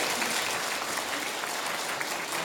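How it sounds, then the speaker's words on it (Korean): Dense, steady applause from an audience at a National Assembly forum fills the whole stretch at an even level, with no voices over it. "다시 한번 큰 박수 보내주시기 성공합니다"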